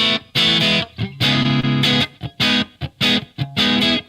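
A Stratocaster electric guitar played through raucous 6L6 tube amps at low voltage, with a short slapback echo, sounds a loud, gritty series of strummed chords in choppy rhythmic bursts with brief gaps between them.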